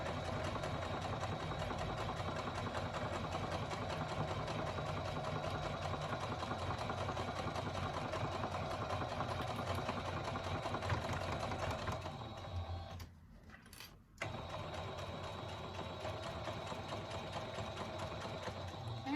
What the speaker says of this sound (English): Once you get to the bottom, we're going to back stitch and pull this out.